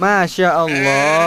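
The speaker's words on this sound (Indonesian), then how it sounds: "Ini adalah domba." A farm sheep gives a loud, close bleat, a second quavering call following right after a brief pause, while someone speaks over it.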